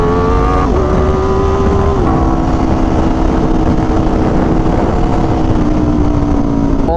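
A loud motorcycle, a track bike, runs close to the microphone with a steady, throaty engine note that steps down in pitch a couple of times, heavy and continuous throughout.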